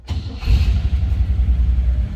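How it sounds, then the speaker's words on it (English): A 1956 Cadillac Series 62 coupe V8 fires up close by, with a short crank catching into a low, rumbling idle that carries on steadily. "let's go ahead and fire this up. Let you hear it run."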